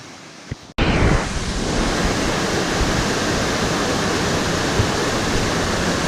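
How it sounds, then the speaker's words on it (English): Waterfall at Sungai Jerangkang in Pahang, a dense continuous roar of rushing, splashing water that starts abruptly after a brief quieter moment and stays loud and close. "Waterfall after waterfall. This place has a lot of waterfalls."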